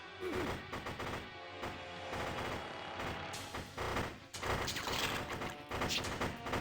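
Dense, continuous gunfire from the PlayStation shooter Project Overkill, with rapid bursts and crashing impacts layered loudly over a busy game soundtrack for the whole stretch.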